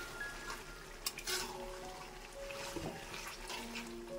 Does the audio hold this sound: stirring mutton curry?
yes